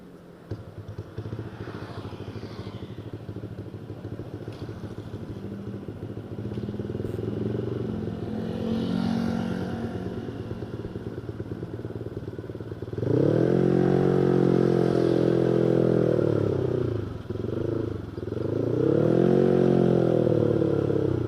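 A Vario motor scooter engine hums while riding, then revs up louder and deeper with a brief dip before climbing again; no talking.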